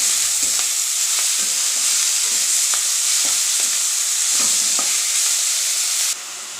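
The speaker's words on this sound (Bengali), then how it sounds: "একটু নেড়ে চেড়ে তারপর আমি এরপরে শাকটা দিয়ে দেবো" Turmeric is stirred in a sizzling pan before fenugreek greens go in. Repeated scraping stirs cut through a steady close hiss, and the frying drops suddenly quieter near the end.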